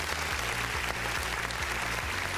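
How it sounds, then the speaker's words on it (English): Applause for contest winners at an international webinar event, continuous and even, with a steady low rhythmic tone running underneath. "may we have another round of applause one more time for our winners"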